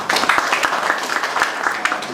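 A seated audience at a church paper presentation event claps to welcome a pastor. Brisk, crisp clapping of a modest crowd sounds close and even, with a few sharper individual claps standing out.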